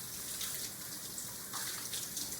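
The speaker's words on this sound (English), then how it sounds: "go ahead, turn your water on, stick your mitts underneath, get them nice and moist" Tap water pours steadily into a sink as hands are rinsed before being soaped, a dense, continuous close splash with no talking.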